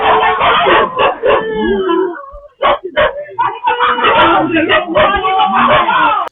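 Dogs howl and yelp in overlapping bursts, close and loud, with a brief pause midway before the howling resumes.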